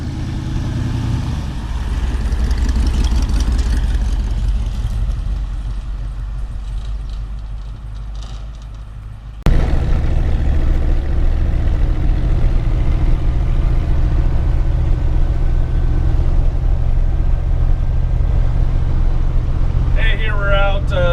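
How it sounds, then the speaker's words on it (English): A 1975 Ford F250 Camper Special pickup cruising, a steady low engine drone and road rumble filling the cab, loud and constant, with a shift in tone partway through and a voice talking over it. "Cruising around in the little F250."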